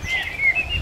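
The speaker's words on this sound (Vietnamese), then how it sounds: "hôm nay là nó hót khá hay rồi đó, mình thấy nó hót khá chuẩn rồi" A pet songbird sings a few quick, bright chirping notes in a short run, close and clear over faint room noise.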